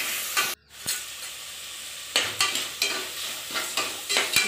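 Tomatoes sizzle in hot oil in a pan for a spiced coconut milk rice, with a sharp drop as they go in and then repeated scraping stir strokes over steady frying hiss.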